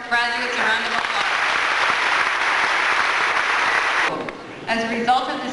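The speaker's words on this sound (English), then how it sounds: "Let's give our graduates a round of applause." Sustained applause fills the hall for graduates at a high school graduation ceremony, loud and steady for about four seconds before tapering off, with a voice speaking briefly after it fades.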